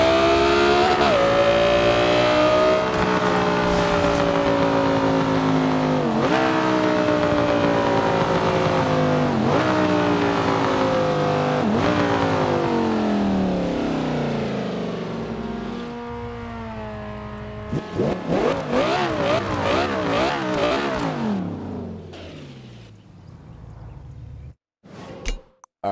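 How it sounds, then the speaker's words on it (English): A car engine revs hard through repeated rising sweeps as it accelerates through gears, loud and close, then drops back and surges again before fading out near the end. "Alright, that was an awesome sounding car."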